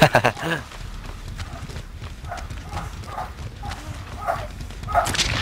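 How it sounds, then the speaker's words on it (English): Several dogs bark in the house, a series of short, moderately loud barks repeating roughly every second, heard behind the ongoing room tone with a voice briefly at the start. "why are my dogs decided to be loud right now?"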